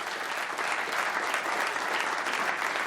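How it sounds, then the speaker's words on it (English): Studio audience applauding a guest on a live football phone-in radio show, a dense, steady round of clapping that stays loud and even throughout without any talk. "Please give Richard a big round of applause."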